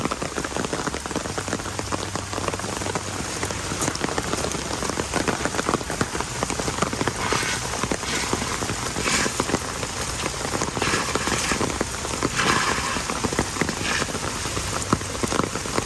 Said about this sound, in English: This is a lot of rain.